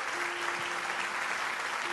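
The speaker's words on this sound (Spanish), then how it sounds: "deberíamos darle un fuerte aplauso a Víctor Saume" Audience applauding in a tribute to Víctor Saume, with a brief, dense burst of clapping that stays steady throughout.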